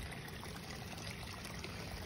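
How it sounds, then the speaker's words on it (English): A creek swollen after rain rushes in a steady, broadband flow. The sound is faint and even, with no voices. "So the creek is kind of overflowed"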